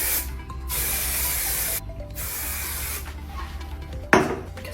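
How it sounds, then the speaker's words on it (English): Hairspray hisses from an aerosol can onto an updo in several bursts: two long sprays, then shorter ones, ending with a sharp puff, with brief quiet gaps between, close and alone. "I'm gonna spray this real quick."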